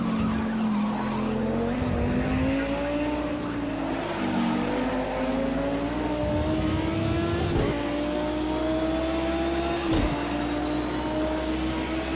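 Race car engine from Project Cars 2 at Imola, a steady loud drone rising and falling with gear changes, with tires squealing and skidding through the corners for the whole stretch.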